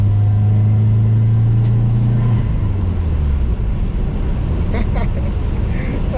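Loud Volkswagen car with a straight-pipe exhaust, a steady low engine drone dropping away after a couple of seconds into rough, raspy revving, heard up close with no talk.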